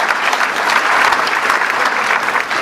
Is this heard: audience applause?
yes